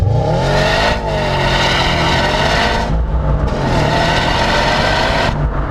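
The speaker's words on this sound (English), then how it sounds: "so you still get the boxer beat, and that's to be celebrated" A 2018 Subaru WRX STI boxer engine pulls hard under acceleration, loud and close, its droning note rising through gears with brief dips at each shift.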